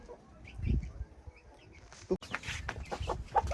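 Black Australorp chickens clucking in a poultry yard, several soft intermittent clucks and short calls nearby, growing busier in the second half amid background rustling.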